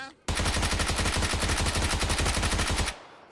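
Sustained automatic gunfire in the video game PUBG, a long rapid burst of evenly spaced shots that runs loud and unbroken for over two seconds, with no talking over it.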